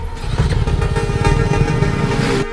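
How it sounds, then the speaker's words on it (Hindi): A motorcycle engine runs loud and rough, its dense rumble steady and continuous for the whole stretch with no pauses. "अरे इंजन में से बहुत आवाज आ रही है"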